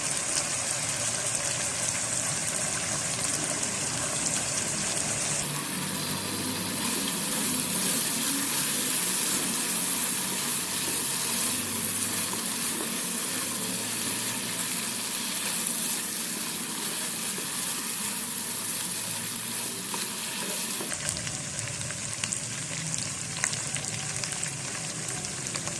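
Turmeric and red chili powder sizzle in hot ghee in a pan for a chicken ginger dish, a steady loud frying hiss that holds throughout and swells in the middle stretch, with no voices.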